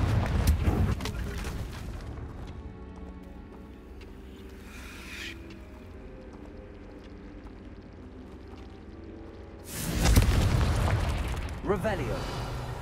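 Confringo fire spell blasts in the video game Hogwarts Legacy, two loud booming bursts at the start and near the end with a quieter rumbling stretch between, a voice speaking over the action.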